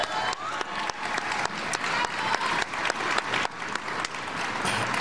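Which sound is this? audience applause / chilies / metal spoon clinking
audience applause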